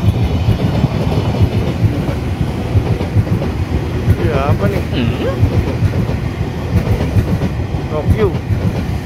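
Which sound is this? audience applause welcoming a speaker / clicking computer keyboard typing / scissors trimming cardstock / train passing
train passing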